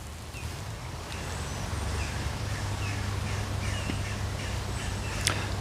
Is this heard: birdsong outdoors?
yes